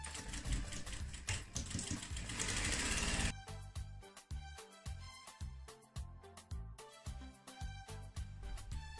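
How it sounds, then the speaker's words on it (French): Sewing machine stitching three sides of a cushion, a loud continuous run that shifts into rapid rhythmic mechanical clatter, with no talk. "À présent, nous allons coudre les trois côtés du coussin."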